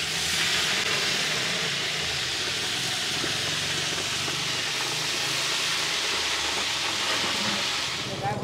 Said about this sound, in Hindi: 8 पीस मूड़ा लाते हैं, उसे एक साथ डाला जा रहा है तेल में